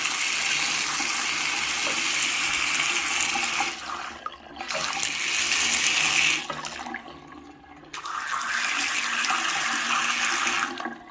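A hot water tap runs in a home plumbing job after the air has been bled from the pipes, a loud, steady gushing flow that briefly drops and stutters twice before surging back, with no voices.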